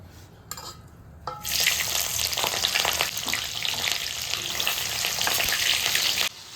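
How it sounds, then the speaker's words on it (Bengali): Capsicum dropped into hot oil bursts into loud, continuous sizzling and crackling after a quieter moment, staying intense for several seconds before cutting off. "তেল গরম হয়ে গেছে এখন আমরা দিয়ে দেবো ক্যাপসিকাম"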